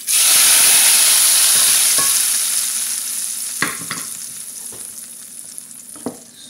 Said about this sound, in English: Okay, it's already popping. You can hear the pop sounds.